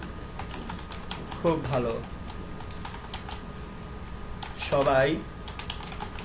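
Rapid clicking of HTML code being typed on a computer keyboard, steady close keystrokes running throughout while someone speaks in two short bursts over them.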